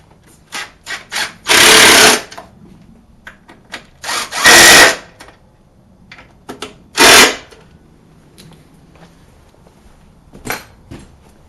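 Power tool tightening motorcycle seat bolts while a Corbin pillion seat is fitted to a 2018 Indian Scout Bobber, three loud close whirring bursts separated by clicks and handling taps.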